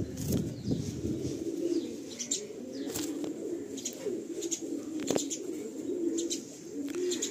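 Andhra pigeons at a loft in Behala give repeated soft low coos, with sharp bursts of wing flapping and scattered chirps nearby.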